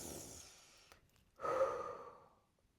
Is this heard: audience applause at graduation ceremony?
no